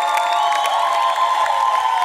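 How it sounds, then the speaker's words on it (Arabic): A studio audience on a Tunisian TV variety show applauds and cheers loudly. The clapping and shouts are dense and continuous, with no one speaking above them. "تصفيق كبير على أحلى جمهور حاضر معنا اليوم"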